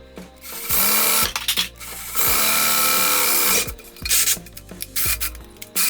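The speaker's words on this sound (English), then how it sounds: "use a 1/2 of an inch drill bit to drill all the way through" A drill fitted with a 1/2 inch bit bores through the grille of a 1975 C3 Corvette, sounding in loud sustained bursts of grinding and rasping that stop and restart several times over a few seconds.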